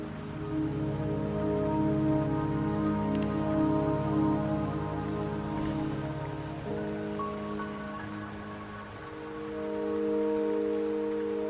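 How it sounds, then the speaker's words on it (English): Steady rain falls in the video game Wuthering Waves, a broad, continuous patter that stays loud throughout, with soft tonal game music underneath and no voices. "Don't worry, the rain won't last much longer."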